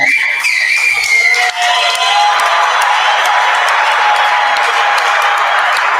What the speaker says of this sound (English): you are getting all the love and applause right here at Tailgaters in Plano